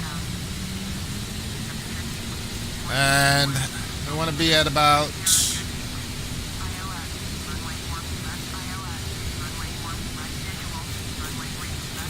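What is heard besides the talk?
ERJ-145 jet engines throttled back in video game FSX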